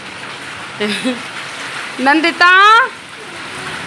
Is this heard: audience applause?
no